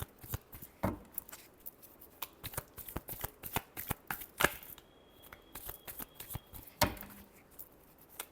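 Tarot cards shuffled by hand in a run of crisp riffling flicks and slaps, close and fairly quiet, with irregular bursts and short pauses throughout and no talking.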